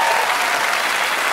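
A short burst of dense audience applause during a French comedy show, steady and full throughout.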